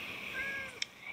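Cat meowing in the Minecraft video game, a faint, drawn-out meow with a brief sharp click partway through, heard alone without talk.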